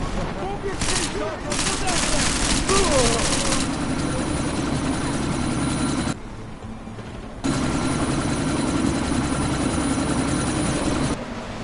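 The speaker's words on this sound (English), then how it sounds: "That chopper's about to take off!" Helicopter in a PS4 video game revving for takeoff, a loud steady rotor roar amid bursts of gunfire, with voices shouting over it and a brief dip partway through.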